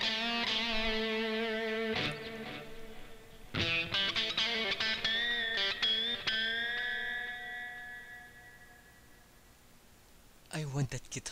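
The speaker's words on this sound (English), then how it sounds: "Guitar solo." A distorted electric guitar solo from the PS2 racing game Wangan Midnight rings out in bright sustained notes and quick bends, fading off before a short final burst, fairly quiet in the mix.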